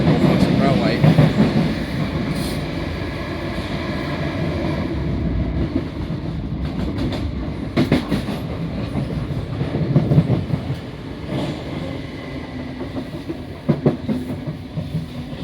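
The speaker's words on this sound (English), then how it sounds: "Similar to, if not the exact same motors as 319012 of London Overground Railway." A South Western Railway electric train rolls along between London Waterloo and Richmond with a steady traction-motor hum and rumble, faint clickety-clack over rail joints and a few sharp knocks, while a voice talks over it.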